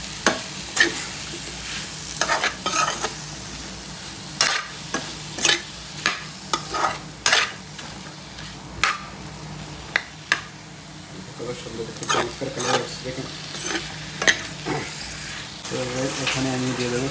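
Lightly boiled cucumber and soybeans stir-fried with spices in a pan, a constant sizzle punctuated by periodic scraping strokes of a spoon, close, with a voice speaking faintly underneath.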